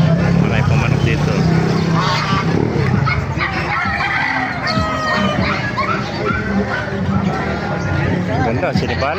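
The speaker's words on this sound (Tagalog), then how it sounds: "Marami pong manok dito." A flock of chickens clucks and squawks nearby with roosters crowing, a busy overlapping chorus, while people talk over the birds.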